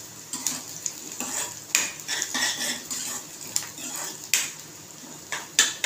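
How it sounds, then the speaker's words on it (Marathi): Onion sautéing in a pan for Maharashtrian pithla, with repeated spoon scrapes and stirring clatter against the metal over a faint sizzle, close and steady with no talk. "त्याचा कांदा चांगला परतला पाहिजे, चांगला लाल झाला पाहिजे।"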